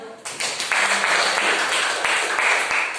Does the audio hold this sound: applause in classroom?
yes